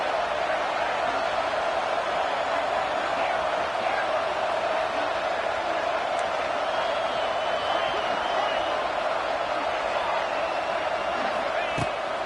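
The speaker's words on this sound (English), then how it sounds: "Guns up, and so is the noise. The crowd electric, trying to help Tech on this third down." A dense, steady roar from a stadium crowd at a Texas Tech football game on third down fills the whole stretch, loud and unbroken, with a sharp knock near the end.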